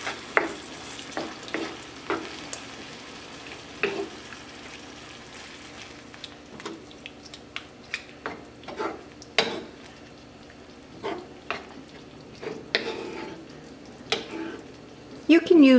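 Homemade spaghetti sauce being stirred in a pan, with scattered scraping and clinking of the utensil against the pan over a soft sizzle, ending in a louder clatter.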